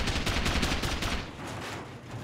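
Shotgun firing in the video game Rust, a rapid series of loud, close blasts for about a second before fading into a quieter rumble.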